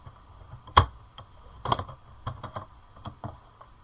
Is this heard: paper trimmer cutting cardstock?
yes